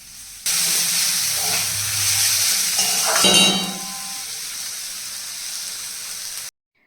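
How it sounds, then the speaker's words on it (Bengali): Greens being stirred with eggplant in a hot pan, giving a loud steady sizzle and hiss with scraping stirring strokes midway, then cutting off abruptly. "চলো এই বেগুন দিয়ে বেশিক্ষণ রাখবো না আমি জাস্ট ভালো করে মিশিয়ে নেব"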